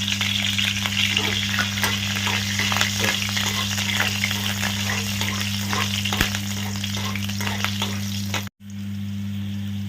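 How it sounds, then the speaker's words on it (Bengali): Fenugreek seeds and chopped green chilli fry in hot oil, giving a steady, loud, close sizzle that runs almost unbroken and cuts out for a moment near the end, with no talking. "কুচিয়ে রেখেছি কাঁচা লঙ্কাটাও দিয়ে দিলাম তেলের মধ্যে"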